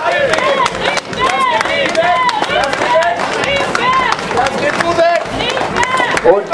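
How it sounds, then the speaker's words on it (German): A crowd at the Filderkrautfest in Echterdingen claps to cheer on a contestant named Rieke, steady rhythmic clapping throughout under a loud announcer's voice and crowd noise. "klatscht doch mal für die Rieke"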